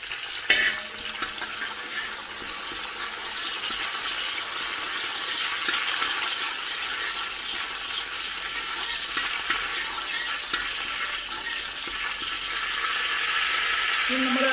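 Curry leaves dropped into hot ghee for a chicken curry: an abrupt crackle at the start, then a loud, steady frying sizzle that holds for the whole stretch.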